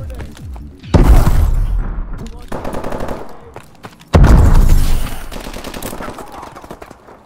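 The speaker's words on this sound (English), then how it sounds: "Launching a stun grenade." Call of Duty Advanced Warfare gameplay with a stun grenade launched amid heavy game gunfire, two loud booming bursts followed by rattling automatic fire and debris, close and dense.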